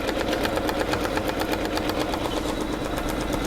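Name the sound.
embroidery machine stitching a flower design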